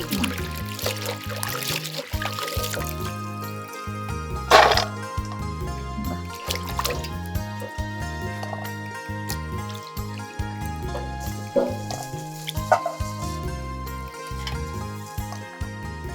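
Small fish washed in water in a hill village kitchen in Bandarban, with steady splashing, trickling and pouring of water close by, a brief louder splash partway through, over faint background sounds.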